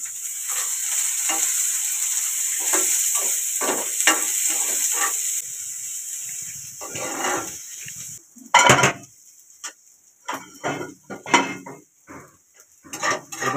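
Onions sizzling and frying in a pan for bharta, a steady loud sizzle with stirring scrapes and clinks of utensil against the pan, no talk.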